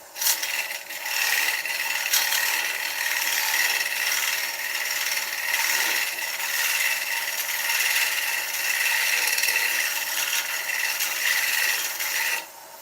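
Woodturning an oak bowl on a lathe with a 3/8 bowl gouge, a continuous bright hissing scrape of the tool cutting the spinning wood, steady and close for the whole stretch.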